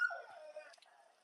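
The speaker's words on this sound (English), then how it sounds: "my dog's barking" A dog at an off-grid homestead gives a short whimpering yip that trails into a faint whine, heard alone and at moderate distance.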